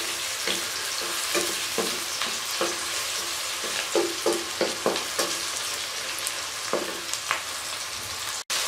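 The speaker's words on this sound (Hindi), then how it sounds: "तो इसको अभी हम फ्राई होने देंगे" Onions and tomatoes fry in a pan for aloo matar salan, giving a constant close sizzle punctuated by repeated rhythmic scrapes of a stirring spoon, ending with a sharp knock.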